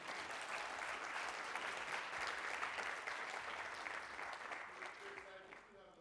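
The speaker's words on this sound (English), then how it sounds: "Now you can applause." Audience applause after a business talk on Monterey County, dense steady clapping from a crowd that holds for several seconds and tapers slightly near the end.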